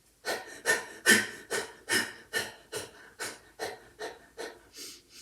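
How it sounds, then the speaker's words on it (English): Rhythmic forceful panting of breath-of-fire yoga breathing, about a dozen sharp, evenly spaced exhalations close to the listener, gradually softening toward the end, with no talking. "Now let me teach you how to do the breath of fire. You're going to pant."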